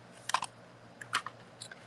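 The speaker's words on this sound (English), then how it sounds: "This time we're going to actually use that typewriter." A few quick keystrokes on a typewriter while making a thank-you card, three short clustered bursts of sharp clacks, close and fairly quiet.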